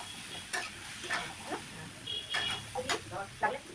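Frying food seasoned with salt and turmeric is stirred in a pan, with repeated scraping strokes and clicks of a spoon over a faint, steady sizzle.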